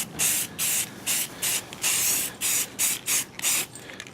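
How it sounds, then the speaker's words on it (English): Spray can applying rust converter primer to the undersides of rusty metal trim pieces, in a rapid series of about nine short hissing bursts with brief pauses between them, loud and close, with no talking. "I was right in the middle of spraying the next round of trim pieces here again, just getting the underside on the metal bits here."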